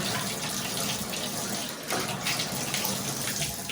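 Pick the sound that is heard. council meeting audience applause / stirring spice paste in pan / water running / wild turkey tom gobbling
water running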